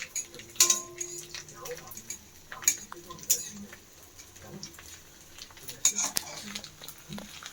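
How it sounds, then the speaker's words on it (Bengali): Metal spatulas stir rice papads frying in a pan, giving sharp, scattered clinks and scrapes against the metal at an uneven rhythm over a low kitchen background. "এই খুন্তিগুলোকে নিয়ে নাড়ো"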